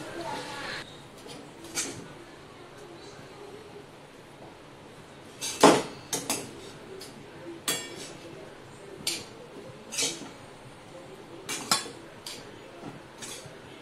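Chowmein noodles being tossed and stir-fried in a pan for street-style veg chowmein, with repeated metallic clinks and scrapes of a utensil against the pan at an irregular pace, close and moderately loud.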